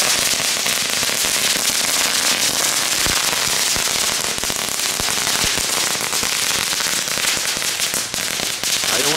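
Dutch firecrackers (knetterwortjes) set off during a fireworks session in Delft, a dense, loud, continuous crackling storm of rapid sharp pops with no gaps.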